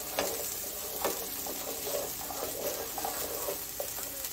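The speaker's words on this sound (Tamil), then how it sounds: "இப்போ இதுல வந்து சின்ன ஆனியன் ஆட் பண்ணிக்கிறேன், நல்லா முழுசாவே ஆட் பண்றேன்" Small whole onions tossed into mutton frying in a pan give a steady, dense sizzle with a few sharp clinks and scrapes from stirring, close and fairly quiet.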